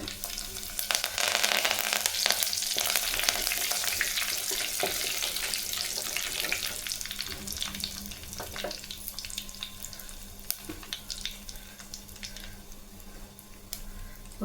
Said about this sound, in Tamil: அது கூடவே காஞ்ச மிளகா ரெண்டு கிள்ளி போட்டுக்கலாம் கறிவேப்பிலை போட்டுக்கலாம்